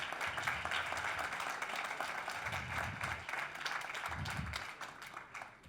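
A conference audience applauds a speaker with steady, dense clapping that carries on for several seconds and thins slightly toward the end.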